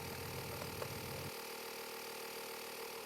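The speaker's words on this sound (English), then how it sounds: "press the inflator switch to turn on the" A Honda tire repair kit air compressor runs with a steady, loud mechanical drone, with a lower rumble in the first second that then drops away, leaving an even hum, alone with no talk.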